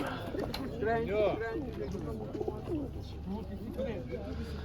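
Pigeons coo at a livestock market pigeon show, soft throaty calls rising and falling close by, mixed with nearby people talking.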